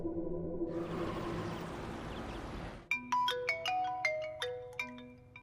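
Broadband hiss gives way midway to a bright electronic phone ringtone in a Hindi drama, a repeating melodic chime pattern ringing clearly and fairly loud with no voices over it.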